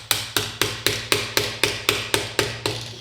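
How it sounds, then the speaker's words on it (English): Hammer strikes driving a new bolt into a new aluminum bicycle crank spindle, about eleven sharp metallic blows in a steady rhythm with ringing decay between hits, close and alone with no talk. "and then start to hammer it in"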